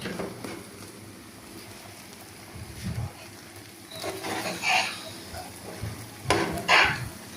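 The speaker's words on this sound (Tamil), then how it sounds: "நல்லா மிக்ஸ் பண்ணிக்கிட்டே இருங்க." Sago (javvarisi) halwa stirred in a pan, with intermittent spoon scrapes and soft bubbling sizzle at a close, moderate level.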